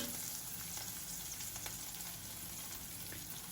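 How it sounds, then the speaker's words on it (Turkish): Dried Simbat mulberries roast in a pan with a steady, soft frying sizzle that crackles continuously and evenly, with no talking. "Artık dutlarımız şöyle güzelce kavrulduktan sonra arkadaşlar fazla da yakmayalım."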